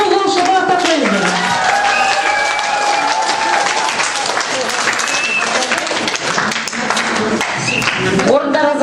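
Audience at a Kazakh women's contest show (kelinder saiysy) applauding the contestants, loud sustained clapping from a full hall, with a voice talking over it.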